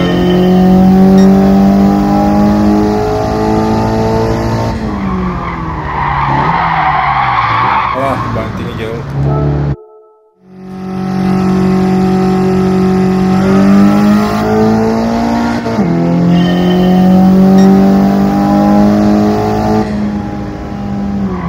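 A race car in Gran Turismo 7 skids and spins out, with a loud engine whine, rising and falling revs and screeching tires, plus a brief dropout in the middle, all under a voice talking.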